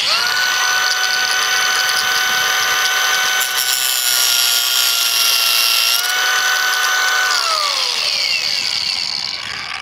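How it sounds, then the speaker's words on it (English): Power cutting tool slicing off bolt heads with sparks flying, a loud continuous high-pitched whine that holds steady, dips briefly mid-cut and then tapers as the blade winds down near the end. "Let's cut off all of these bolt heads"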